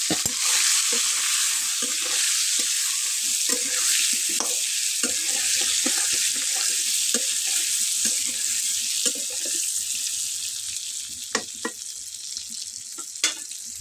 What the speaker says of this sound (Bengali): লবণ দিয়ে আমি একটু ভেজে নেব